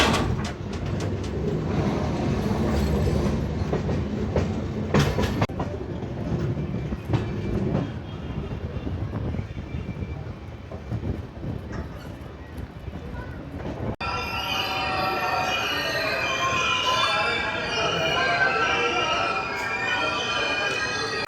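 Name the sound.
Konark Express train running on the rails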